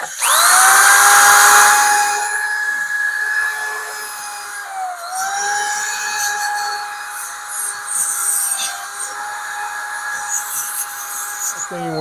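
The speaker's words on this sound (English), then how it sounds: "I'm just going to hit this with a wire wheel just to clean it up" A drill-driven wire wheel spins up to a loud high whine and scrubs a window regulator track from a 1966–70 B-body car, holding a steady pitch with brief dips under load.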